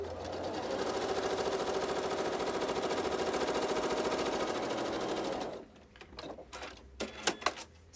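A sewing machine runs steadily while stitching a diagonal line across a quilt block, giving a loud, fast, even mechanical patter for about five seconds before it stops and a few soft clicks and handling sounds follow.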